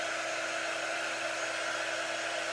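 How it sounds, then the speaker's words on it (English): A blow dryer used to heat-set ink runs loud and steady throughout, a continuous close-up whoosh of blowing air with no talking over it. "I could also use the blow dryer. It's just so much louder, but it's a little bit higher temperature."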